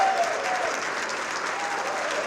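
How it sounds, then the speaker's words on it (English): Audience applause at a press freedom award dinner, a steady wash of many hands clapping throughout with no voices standing out. "Please help me clapping Carol Schwalbe, former school director,"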